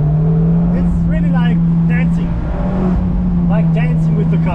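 Mazda MX5 driving fast through the Black Forest in Germany, its engine droning steadily and close with brief surges as it brakes and accelerates, while people talk over it throughout.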